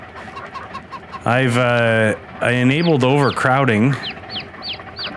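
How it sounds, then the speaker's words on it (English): Chickens on a Farming Simulator farm of about 300 birds cluck and chirp softly in the background, with short high peeps scattered throughout, while someone talks over them. "And we have 300 chickens now."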